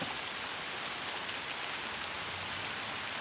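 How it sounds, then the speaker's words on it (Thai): Steady rain falls in a soft, constant hiss on rural surroundings, an even wash of drops with no breaks or voices, heard at low to moderate volume throughout. "ฝนตกครับฝนตก"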